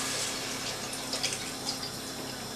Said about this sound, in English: I've got 900 millilitres of good chicken stock.